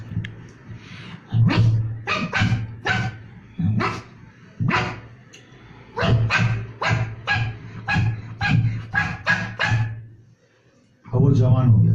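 A man mimics a puppy barking with his voice, giving a quick series of short, high, yappy barks in uneven bursts, loud and close, with a short pause near the end.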